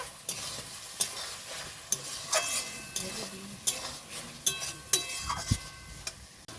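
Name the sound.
meat being stir-fried in a pan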